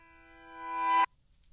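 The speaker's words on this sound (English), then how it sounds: "I just slapped a piano chord down and then reversed it." A reversed piano chord used as a spooky transition swells steadily from near silence to a loud peak, then cuts off abruptly into quiet, alone with no talking.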